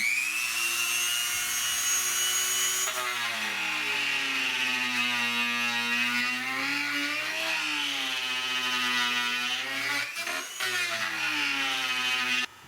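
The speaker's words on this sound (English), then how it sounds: "I just literally grind right up and around. And I'm going to fire back up." An angle grinder trims a Hooker show bar on a Camaro with a loud, sustained high whine that sags and recovers as it bites into the metal, then cuts off abruptly at the end.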